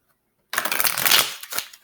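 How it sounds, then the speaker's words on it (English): A single quick riffle-shuffle of an Osho Zen tarot deck, close and crisp, lasting about a second with a soft tap as the cards settle. "let's do one more shuffle here"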